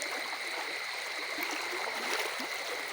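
A swollen river, running high after a flood, rushes steadily in a continuous broadband roar, even and unbroken, with no voices.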